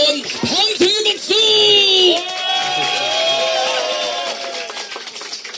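A crowd at a presidential campaign rally cheers and shouts, giving a loud and close swell of whoops and voices with some clapping underneath. An amplified voice calls out over the noise.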